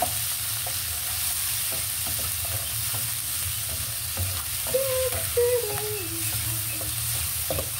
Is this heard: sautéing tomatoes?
yes